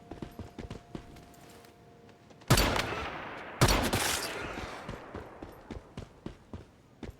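Gunfire from shooting creatures in Once Human: two loud, close shots ring out a second apart, each with a long fading tail, amid light scattered clicks and taps.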